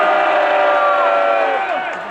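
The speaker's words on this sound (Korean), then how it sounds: "이들에 대해서 사기 올리는 큰 박수 한번 해주시기 바랍니다." A large crowd at an outdoor rally in Gwanghwamun cheers and shouts together in a loud, sustained roar that fades slightly at the end, with no distinct clapping.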